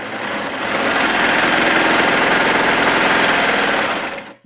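A sewing machine runs steadily, stitching Supplex swimsuit fabric, its rapid needle chatter and motor hum loud and continuous before stopping abruptly at the end.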